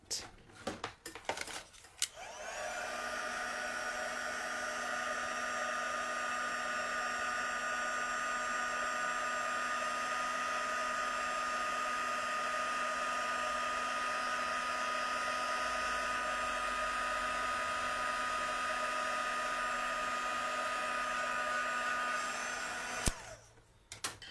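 A craft heat tool blows steadily on an embossed card, a loud, even whirring hum with a high whine that holds for about twenty seconds before clicking off.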